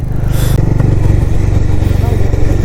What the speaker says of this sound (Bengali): বাইক চালাচ্ছে তোমাদের ভাই।